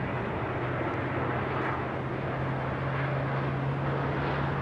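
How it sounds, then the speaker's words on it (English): A KLM Boeing 777 airliner passes overhead at London Heathrow as a steady, broad jet rumble with a low constant hum, holding an even level throughout. "KLM 777 overhead."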